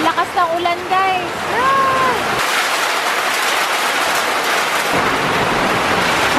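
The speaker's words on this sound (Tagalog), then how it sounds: "Ang lakas ng ulan" Heavy rain pours in a steady, loud wash of noise that fills most of the clip, with brief chirping sounds over it at the start.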